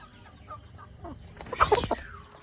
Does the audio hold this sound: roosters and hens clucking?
yes